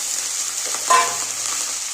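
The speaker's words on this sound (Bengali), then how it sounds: "এবার আমি বেগুনগুলো ভেজে নেব।" Eggplant pieces sizzle steadily in hot oil, a continuous hiss broken by one brief clink and scrape of a utensil in the middle.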